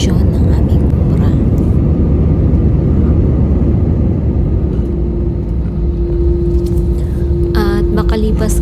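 Steady, loud, close cabin roar of an airplane in flight on a flight to Jeddah, with a continuous low rumble and whir throughout and a thin steady tone appearing late.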